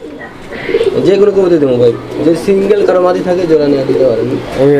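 A male Dauka pigeon coos repeatedly up close, a deep throaty rolling call, with someone speaking briefly over it.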